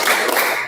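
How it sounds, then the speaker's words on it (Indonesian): In an Indonesian classroom, a group claps hands together for a focus-clap routine, producing a brief, bright burst of overlapping claps that fades quickly. "Tepuk fokus."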